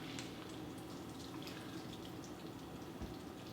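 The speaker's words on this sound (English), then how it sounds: "See that water coming out of it" Water dripping and trickling out of a handful of squeezed, very wet homemade sauerkraut cabbage, a quiet, close, steady patter with no talking.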